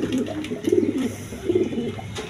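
A pair of Lahori pigeons coo nearby in deep, rolling bursts that pause and resume, with faint background noise and no talk.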